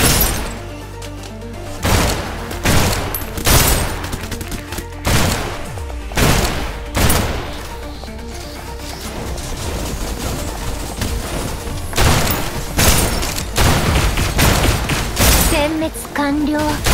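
Rapid bursts of gunfire in the video game Snowbreak: Containment Zone, loud and repeated in clusters with sharp impacts and crashes, while a character speaks in between.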